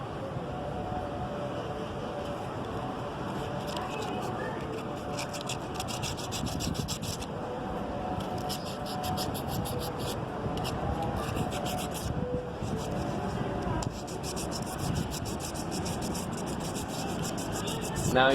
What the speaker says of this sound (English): Now use sandpaper to remove carbon.